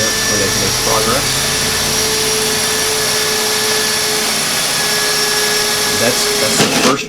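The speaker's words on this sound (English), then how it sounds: "drilling out the holes" A loud, steady whine of a power drill running continuously, with a brief rise in pitch near the end.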